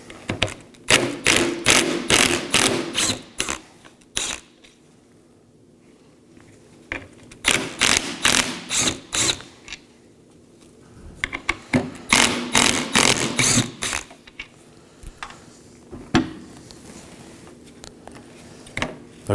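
A ratchet backs out three 10mm bolts holding a power window motor to the regulator on a 2018-2024 Chevrolet Equinox, sounding as loud, close bursts of rapid clicking separated by short pauses.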